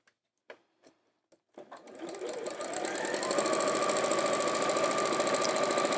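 An Elna 550 sewing machine top stitches a bag, starting after a few soft clicks and settling into a steady, close, fast mechanical whirr that runs continuously to the end.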